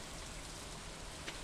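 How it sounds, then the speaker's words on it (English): Steady, soft rain falls in the Stardew Valley farming game, an even hiss with faint patter and no other sound. "Plus, you could seriously just sit here and listen to the rain."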